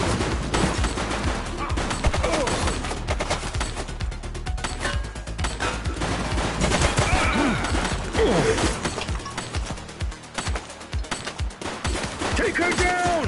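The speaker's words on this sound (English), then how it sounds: "She's shooting!" Gunfire in the police video game The Precinct: rapid bursts and scattered shots crack over a noisy city scene with crashes and impacts, dense and loud throughout, with shouted voices mixed in.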